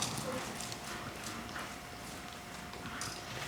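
Horse hooves stepping in an arena while a horse performs half pass at a riding clinic, a series of soft irregular thuds over a steady noisy background, fairly faint, with no talk.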